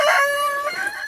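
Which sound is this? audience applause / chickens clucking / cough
chickens clucking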